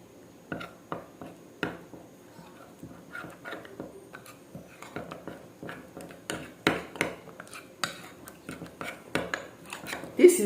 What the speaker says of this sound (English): I'm going to add it into it and mix it thoroughly